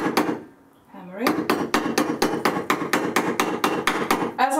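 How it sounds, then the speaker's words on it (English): Annealed silver being hammered into a ring shape on metal, with a brief pause followed by around a dozen sharp, ringing metallic strikes at a steady, fairly quick rhythm, close and loud. "hammering."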